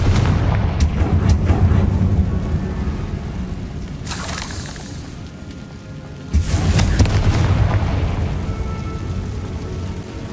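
Confringo spell blasts in the Hogwarts Legacy video game: a heavy, rumbling explosive boom that swells, then a second loud burst about halfway through, each with a rolling low roar.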